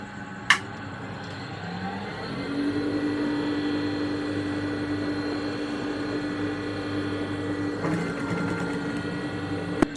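A sewing machine runs steadily stitching a straight seam along a skirt (pavadai), its motor hum continuous and close for nearly the whole stretch, with a sharp click near the start and a brief rattle near the end.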